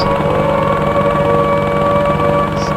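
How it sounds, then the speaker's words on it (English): A loud, steady siren wails continuously over a dense electronic hum in Homebrew Vehicle Sandbox, with no talking. "And there's sirens going off."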